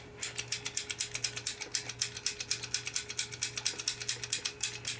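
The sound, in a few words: Bally Old Chicago pinball spinner mechanism working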